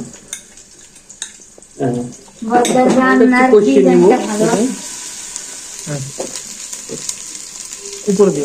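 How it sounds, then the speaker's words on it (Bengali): Garam masala with onion, garlic and ginger paste hits a hot pan and sizzles loudly for a couple of seconds, then settles to a softer frying hiss with a few utensil clinks; a voice talks briefly at the start. "গরম মশলা, আমাদের পেঁয়াজ পেস্ট, রসুন, আদা, এই পেস্টটা দিয়ে দিলাম।"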